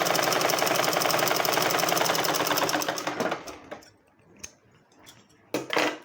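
A sewing machine runs a second line of stitching along a blouse, a fast loud mechanical rattle for about three seconds, then stopping, followed by a few scattered ticks and clicks.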